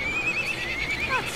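A horse neighs in the video game Guild Wars 2, a loud, wavering whinny that lasts about a second over a steady background hum.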